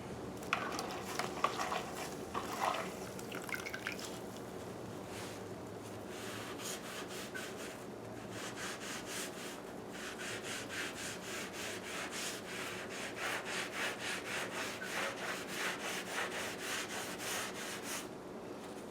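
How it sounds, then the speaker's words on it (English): A damp sponge wipes excess grout off freshly grouted tile in steady rubbing strokes, a continuous close scrubbing texture with faint patter, no talking. "we're just going to clean up all of the excess all of the excess grout that's on the tile here"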